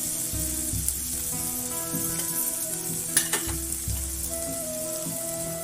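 Garlic, green chillies and red tomato sauté in a pan for a Kolhapuri-style wild greens dish, a continuous sizzle with scattered stirring clinks and one sharper scrape partway through, no voices.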